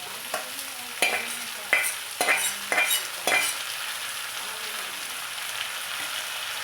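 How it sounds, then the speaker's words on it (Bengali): Potatoes and broccoli with spices fry in a pan for a Bengali fish curry, a steady close sizzle broken by several sharp scraping stirs in the first half before settling to an even hiss. "কষানো মশলা এবং এই ব্রোকলিগুলো এবার আলুর সঙ্গে দিয়ে দেবো"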